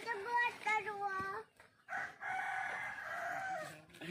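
A rooster crows loudly and close by, one long drawn-out call following a shorter one, with faint clucking and background noise around it.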